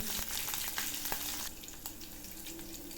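Mustard seeds, chana dal and cumin fry in hot oil, giving a soft, even sizzle with scattered pops and light scraping from stirring. The sound is fairly quiet and continuous, with no talking.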